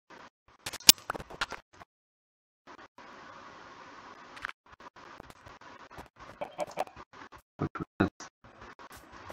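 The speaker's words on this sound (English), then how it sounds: "That's a chicken." A chicken in the Minecraft video game clucks in short, scattered bursts among other brief game clicks and thumps, moderately loud and without talk.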